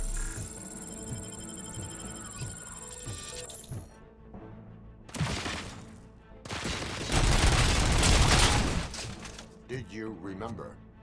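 Gunfire in RoboCop: Rogue City: after a stretch of game music, a sharp blast is followed by a long, dense roar of rapid shooting, with further scattered effects trailing off at the end.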